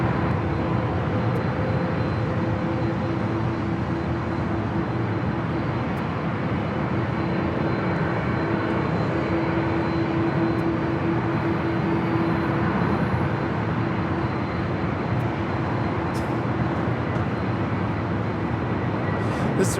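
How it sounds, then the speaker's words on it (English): A two-year-old Delta Airlines Airbus A321neo lands at LAX after a flight from Minneapolis, a continuous broad engine roar and rumble holding steady for about twenty seconds with a faint whine partway through, no voices. "This arrival Delta Airlines 2122 coming in from Minneapolis. Flight time is 3 hours and 28 minutes on this 2-year-old A321neo."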